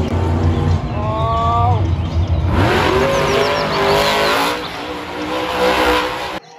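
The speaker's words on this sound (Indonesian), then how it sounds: "Ini adalah mobil monster teman-teman." A monster truck engine roars and revs with rising pitch sweeps, loud and close, climbing through several accelerations with a busy, rattling edge and no speech.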